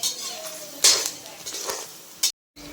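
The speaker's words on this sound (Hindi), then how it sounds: "ये गोंद को इसी तरह से भुनना है हमें" Edible gum (gond) being roasted in a pan, heard as soft scraping and a few sharp metallic clinks of a utensil against the pan, with one louder clatter, then a brief cutoff.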